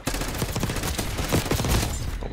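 Rapid bursts of gunfire from a weapon with a buffer weight stock in the video game Black Ops 6, shots crackling in quick irregular volleys, loud and close throughout with no talk.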